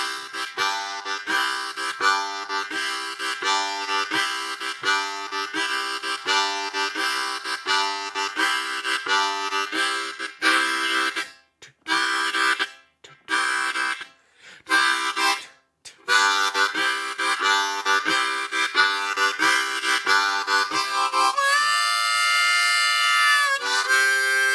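A blues harmonica churns out a loud, close chord shuffle, with the breathy chords pulsing in a steady rhythm and a few short breaks before a long held chord at the end.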